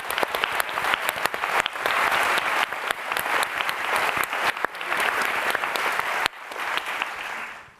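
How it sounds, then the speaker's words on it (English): Sustained applause from the audience at a talk, dense and fairly close, with sharp individual claps over a steady wash that fades out at the end. "And particularly, I think we should give another round of applause to Nikole."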